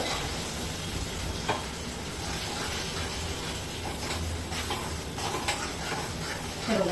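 Cashew masala paste being sautéed in a hot pan for a Maharashtrian festive cashew curry, a steady close sizzle with occasional scrapes of a spatula stirring it.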